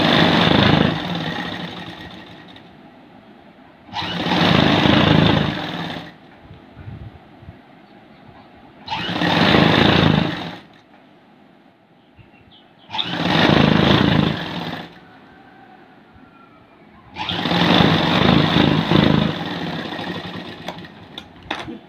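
A tailor's sewing machine runs a hem along the edge of a blouse in five separate bursts of close, loud whirring, each a couple of seconds long, with quiet pauses between them.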